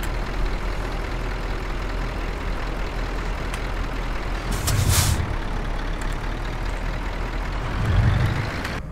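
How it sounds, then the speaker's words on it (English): A Scania truck in Euro Truck Simulator 2 holds a steady low engine drone with faint wind noise, broken by two short hissing air-brake releases about three seconds apart. "I'm sure they've reworked how that Scania sounds because it sounds completely different"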